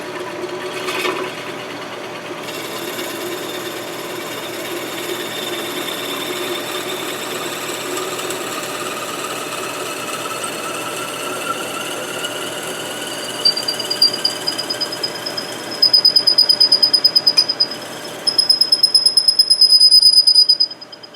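A drill runs steadily as it bores a draw bolt hole in a Remington 7400 rifle, giving a continuous mechanical whir with faint ratcheting, then harsher louder grinding bursts toward the end as the bit bites in.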